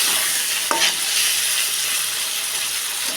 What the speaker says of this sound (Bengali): আর প্রথমে মাংসটা ভেজে নিচ্ছি